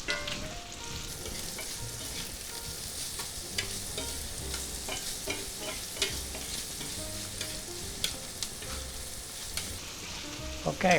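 Seasoned meat with salt, pepper and garlic frying in a pan for a cheeseburger pizza filling, a continuous close sizzle with scraping stir strokes and occasional utensil taps against the pan.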